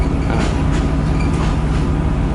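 Free air-conditioned shuttle train in Bangkok, linking the MRT to the Purple Line, running with a steady loud rumble and rail clatter from inside the carriage, no talk over it.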